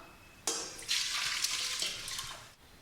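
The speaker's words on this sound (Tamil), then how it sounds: "இப்போ இந்த ஊற வச்சிருக்க அரிசியை போட்டுக்கலாம்." Soaked rice tipped into a pot of hot oil for prawn biryani gives a sudden rustling, hissing sizzle that swells and holds steady for about two seconds, then cuts off.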